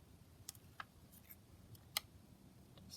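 Scissors snipping paper for a journal page, with a few quiet, sparse clicks and snips over faint background hiss, close but soft.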